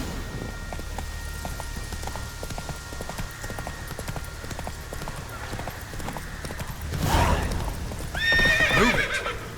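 A horse in the video game The Witcher 3 trots with steady clip-clop hoofbeats over a rainy soundscape, then lets out a loud whinny near the end.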